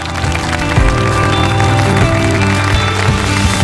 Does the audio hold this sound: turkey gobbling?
no